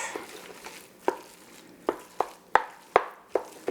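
Kale mash with a bacon and onion mixture is worked in a pot, a spoon striking and scraping in roughly eight sharp, close knocks at an uneven pace over a quiet background, with no voices.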